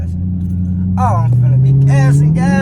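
A straight-piped Chrysler 300 Hemi C engine idles with a deep, loud rumble, then revs and rises steadily in pitch, while someone talks and exclaims excitedly over it close by.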